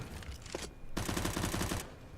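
AK rifle gunfire in a Counter-Strike-style competitive match: a short burst, a brief pause, then a longer rapid automatic volley of sharp, evenly spaced shots.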